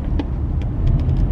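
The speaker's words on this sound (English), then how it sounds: "This giant car just went up onto the lawn." A large pickup truck drives up off the road onto a grass lawn, its engine a steady low rumble with faint ticks and scrapes, heard alone and fairly close.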